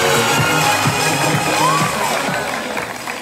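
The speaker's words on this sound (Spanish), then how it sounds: "Fuerte el aplauso nuevamente." Loud, dense crowd noise at a school intramural sports event, with cheering, children shouting and whoops swelling continuously and easing slightly toward the end.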